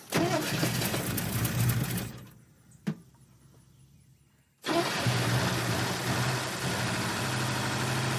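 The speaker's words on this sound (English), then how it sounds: "That doesn't sound like a very good engine." A 1964 Chevrolet Bel Air engine runs rough, loud and steady at close range, drops away to near silence with a single sharp knock, then surges back to a full, uneven running note.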